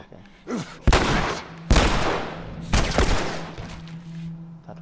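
Gunfire in The Last of Us Remastered, in a university setting: three loud, sharp gunshots a second or so apart, each with a booming tail, over a low steady hum and no talk.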